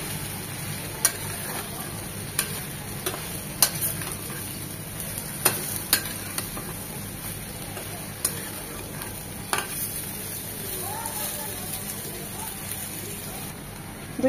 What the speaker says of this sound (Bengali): এখন এই মশলা কষানোর মধ্যে বেগুনগুলো দিয়ে দিচ্ছি। মশলার সাথে ভালোভাবে নেড়ে চেড়ে বেগুনগুলো মিশিয়ে নেব।